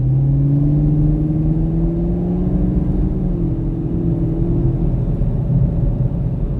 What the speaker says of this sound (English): Just check out this acceleration. You can hear it grumbling.